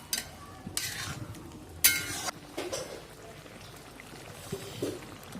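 Milk curry being stirred in a pot for a Pongal meal: a few separate bursts of spoon scraping and soft sizzling, near and moderately loud, with no talk.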